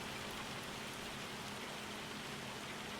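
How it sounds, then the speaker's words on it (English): Hail and rain falling in the farming video game Farming Simulator 25, a steady dense hiss of pattering drops that stays even and unbroken throughout, with no voices. "Oh, I've just fast forwarded and we got hail coming in."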